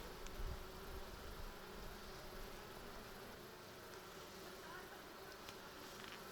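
Dense, steady buzzing from many honeybees close by on a hive frame with brood, a continuous hum with a noisy texture throughout.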